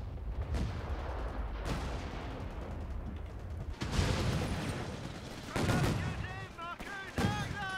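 Gunfire in a Company of Heroes 3 battle in the Italian campaign: rifle and machine-gun bursts crack and rattle with distant booms, and faint voices come and go underneath.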